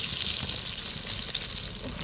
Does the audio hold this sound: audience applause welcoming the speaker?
no